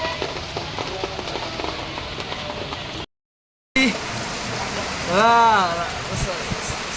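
Heavy rain pours steadily in Mumbai as an evening downpour, a dense continuous hiss broken by a short silent gap, with a few tonal sweeps and scattered voices in the background.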